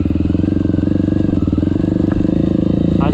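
A trail motorcycle on an off-road club ride, engine running loud and close with a steady rapid pulsing putter throughout.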